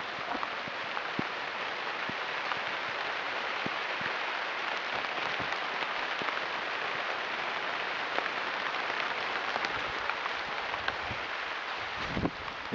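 Heavy rain pours down outside a balcony in a steady, dense hiss with scattered louder drops, unbroken and without talk.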